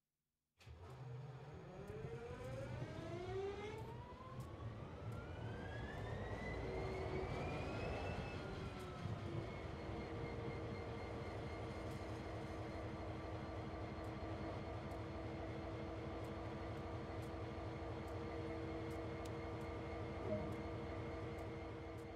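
An SD40 diesel locomotive in Train Sim World 2 cranks and fires up, its pitch climbing over several seconds before settling into a loud, steady idle rumble with constant tones.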